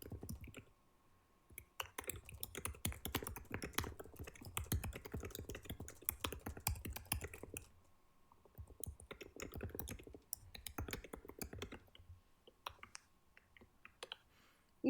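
Fast keyboard typing goes on in quick bursts of light clicks with brief pauses between them. The sound is faint and close, with no voices.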